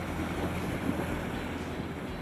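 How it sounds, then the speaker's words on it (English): Small match-racing yachts sail on a lake at St. Moritz, heard as steady wind buffeting and water rushing past the hull, a continuous broadband roar without speech. "These relatively small yachts are hugely manoeuvrable"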